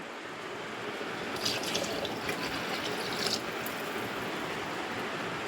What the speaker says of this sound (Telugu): వాటర్ పోసేద్దాం.